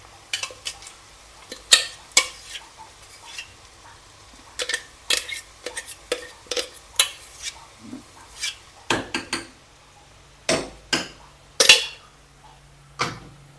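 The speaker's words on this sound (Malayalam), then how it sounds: "ചെറുതായിട്ടൊന്ന് വാടിയ ഉള്ളിയിലോട്ട് നമ്മൾ ചതച്ചെടുത്ത് വെച്ച വെളുത്തുള്ളിയും ചെമ്മീനും ഇല്ലേ, അതും ഇട്ട് കൊടുക്കാം." Crushed garlic and prawns dropped into softened onions in a pan for a Kerala-style thoran, heard as a string of sharp metal spoon scrapes and clinks against the pan, close and fairly regular, with a faint sizzle beneath and no talking.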